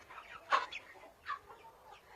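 A hen in a village yard gives two short, close clucks about a second apart, with nothing else heard.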